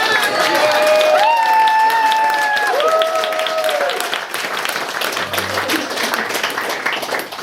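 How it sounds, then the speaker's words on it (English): Wedding guests clap and cheer during the speeches in a sustained round of applause, with voices calling out over it before the clapping thins to a lighter patter. "I'd like another round of applause for the girls in church who sang that"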